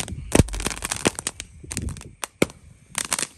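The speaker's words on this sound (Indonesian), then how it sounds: "Kita pesta kembang api, menyalakan banyak sekali mercon" Firecrackers and fireworks go off at a New Year's Eve night celebration, sharp loud bangs and crackling pops in an irregular rapid string, some close and punchy.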